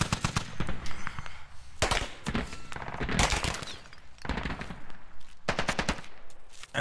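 Rapid automatic gunfire rattles in dense bursts through a squad firefight in a video game, loud sustained volleys broken by brief pauses, with no talk over it.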